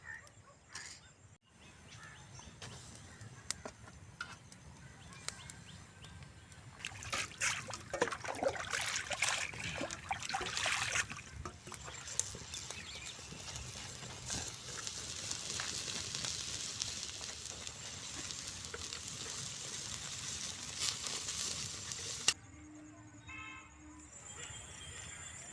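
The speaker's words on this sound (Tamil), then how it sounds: "கம்பியை வச்சு காடை அது மேலே போட்டுடலாம்." Farm quail are set on a wire grill over a village wood fire and sizzle and crackle steadily, swelling louder midway before settling into a softer hiss.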